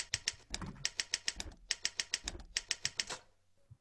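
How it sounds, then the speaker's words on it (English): Rapid typewriter keystrokes tap out a rhythmic pulse within the Atonement film score, crisp clicks arriving in quick bursts with short pauses, close and prominent over a low musical bed. "So there's even counterpoint with the damn typewriter."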